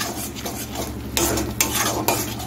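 Mustard paste stir-fried with softened tomatoes for a prawn curry sizzles gently in a pan, punctuated by close, repeated scrapes and knocks of a spoon stirring against the metal, with no talking.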